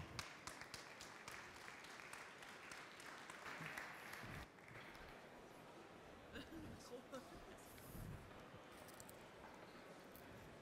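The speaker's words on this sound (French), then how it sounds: "Je crois que vous pouvez l'applaudir." A public audience at a cooking show event applauds a chef's dish, fairly faint, steady clapping from a distance, with a few voices murmuring underneath.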